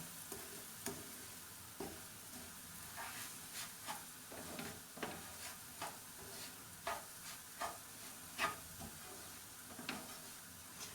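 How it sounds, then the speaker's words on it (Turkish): Bulgur wheat toasting with tomato paste and peppers in a pan for kısır, a soft steady sizzle broken by repeated scraping stirs of a spoon at an irregular rhythm, close and fairly quiet. "Ben bulgurumuzu da dökeyim. Şöyle. Böyle beraber güzelce kavrulsun."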